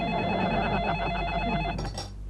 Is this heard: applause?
no